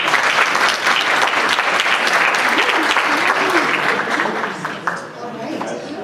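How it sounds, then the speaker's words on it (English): Audience applause on stage at a live event, loud dense clapping and crowd noise that carries steadily for several seconds and eases slightly near the end, with no speech over it. "Let's give them another round of applause."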